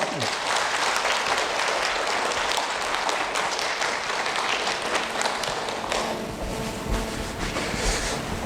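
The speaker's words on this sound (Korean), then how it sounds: "뜨거운 박수 부탁드립니다" Audience applause welcoming a lawyer to the stage for a lecture on real-estate brokerage accidents, a dense, steady wash of clapping that fills the whole stretch and eases slightly near the end.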